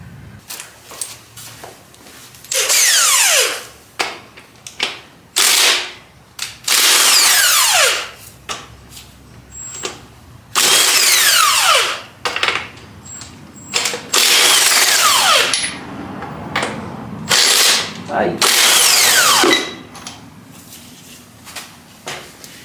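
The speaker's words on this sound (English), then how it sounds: "Continue on cleaning, getting all this gunk off." A power tool, likely a wire wheel or grinder, scrubs gunk off the rear end of a 1979 Fox Body Mustang, sounding in loud, harsh bursts of several seconds each with short quiet gaps between them.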